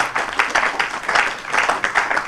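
Audience at a formal annual assembly ceremony in Benin applauds a director general, a steady wash of many hands clapping at a fairly loud level throughout, with no voices over it.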